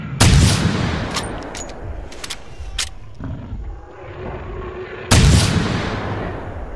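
Two loud .308 handgun shots in the video game theHunter: Primal, fired at T-Rex about five seconds apart, each a sharp crack with a long booming decay, with a few small clicks in between.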